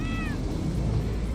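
A cat stuck up a tree gives a single short, high meow at the start, heard faintly over a loud, steady rumbling background.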